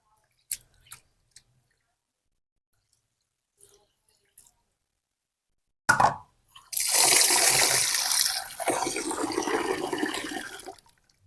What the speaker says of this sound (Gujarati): ભાત ધોઈ ગયા છે બે ત્રણ પાણીમાં ધોઈ નાખ્યા